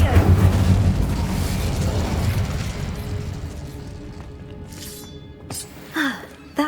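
Incendio fire spell cast in Hogwarts Legacy, a loud booming fiery burst that rumbles and fades over several seconds, with a few sharper pops and game effects near the end.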